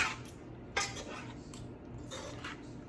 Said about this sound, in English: And then you just mix it all up.